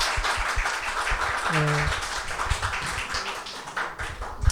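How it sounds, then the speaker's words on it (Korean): A high-school youth group at a church service gives welcoming applause: a short burst of brisk, moderately loud clapping in a room, with a brief voice sounding partway through. "우리 환영의 박수 한번 할게요."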